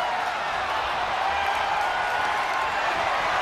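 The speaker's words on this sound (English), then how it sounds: "The roar of this crowd has been building, and they are at a fever pitch right now." Wrestling video game crowd in WWE 2K23 roaring steadily through a women's match, a dense, constant wash of cheering with no breaks, loud and continuous throughout.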